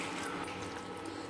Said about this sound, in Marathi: आता आपण थोडंसं गरम पाणी टाकूया याच्यामध्ये